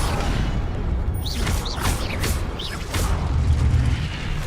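An Incendio fire spell cast in the video game Hogwarts Legacy, a burst of whooshing, booming fire effects layered over dense game noise and rumbling, with rising whistling swoops.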